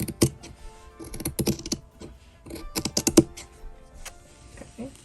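Scissors cut along a drawn circle line while making butterfly hair bows, giving close, crisp, rapid snipping clicks in irregular bursts with short pauses between cuts.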